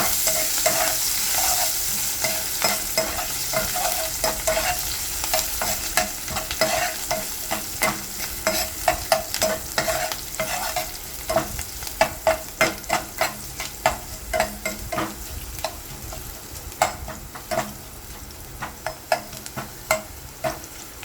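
Green chillies, ginger and garlic fry in a pan with a steady low sizzle, punctuated by frequent close clacks and scrapes of a utensil stirring, rhythmic and growing busier, with no voices.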